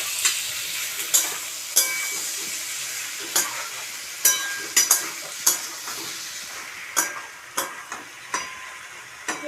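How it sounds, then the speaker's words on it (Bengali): Shrimp curry with ridge gourd and potato, just sweetened with sugar, is stirred in a hot pan. A steady close sizzle is punctuated by regular spatula scrapes, about one every half second, with no speech. "আবারও আমি ভালো করে একটু নেড়ে চেড়ে নেবো"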